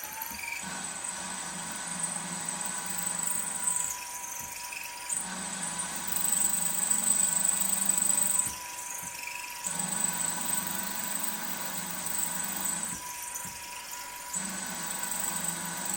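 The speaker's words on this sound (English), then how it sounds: "I might be able to move that drill down a little bit" A drill runs steadily while machining a part for a 2-inch scale Fowler Showman's traction engine model, a continuous whine with a few brief pauses and load changes, close and fairly loud, no talk.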